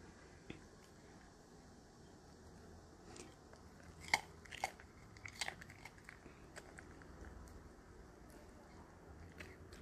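A poodle chews food during a home mukbang-style feeding, giving soft, scattered close bites and crunches over low room noise, with a few sharper crisp clicks around the middle.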